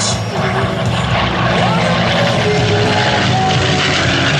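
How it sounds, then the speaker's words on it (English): A P-51 Mustang propeller fighter roars past at an air show, its loud, steady engine drone filling the air throughout with a slight rise and fall as it passes. "one more time, Lee Lauderback and the P-51 Mustang, the Little Witch."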